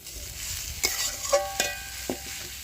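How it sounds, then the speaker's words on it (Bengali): Spices being stirred into potato and cauliflower in a pan for cauliflower chops, a soft sizzle with a few sharp scrapes and taps of the spoon against the pan, close and steady, no talking. "এখন এই সমস্ত উপকরণগুলো খুব সুন্দরভাবে কিন্তু আমি মিশিয়ে নেবো আলু আর ফুলকপির সাথে"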